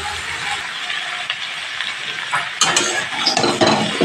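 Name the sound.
vegetables being stirred and fried in a pan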